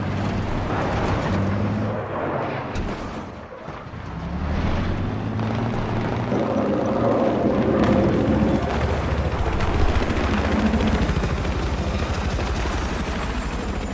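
A small recon drone flies around in Battlefield 3, giving a steady whirring, helicopter-like rotor drone that dips briefly, then swells and holds at a moderate level against distant battlefield rumble.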